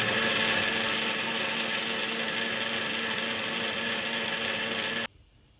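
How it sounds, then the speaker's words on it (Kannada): A mixer grinder grinds grated fresh coconut with a loud steady motor hum and buzzing blades, close by, then cuts off abruptly near the end. "ನೆಕ್ಸ್ಟ್ ಇದನ್ನು ಮಿಕ್ಸಿಗೆ ಹಾಕಿ ನೈಸಾಗಿ ರುಬ್ಬಿಕೊಳ್ಬೇಕು"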